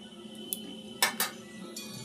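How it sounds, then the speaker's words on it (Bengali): A metal kadai set onto a gas stove, a few brief close clinks and knocks against a quiet background, no speech. "একটা কড়াই নিয়েছি, বসিয়ে দিলাম।"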